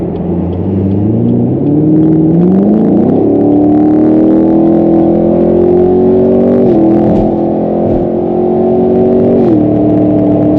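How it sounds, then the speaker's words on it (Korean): A Chevrolet Camaro SS V8 with an MBRP exhaust accelerates hard, a loud, steady engine drone whose pitch climbs through upshifts, heard from inside without talk. "확실히 잘 달려주는데 순간 가속력 굉장히 좋습니다"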